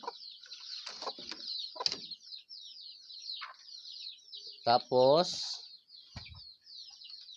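Chickens cluck and squawk near a nest where a hen has been laying eggs, with a loud burst of rooster-like calling midway. A person speaks briefly between the bird sounds.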